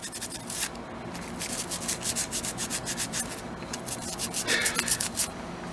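Steady back-and-forth scrubbing of a Scotch-Brite pad over an old part from a forgotten amusement park ride, a series of close, rhythmic abrasive strokes with no talking.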